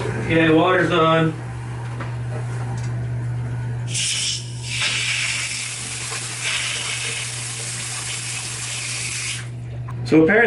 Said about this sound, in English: Okay, water's on.